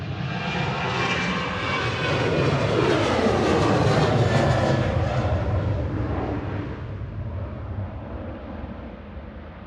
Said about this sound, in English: There goes Sun Express to Antalya, TCSPP, a 9-year-old 737-800 with flight 595